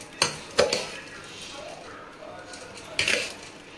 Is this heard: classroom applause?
no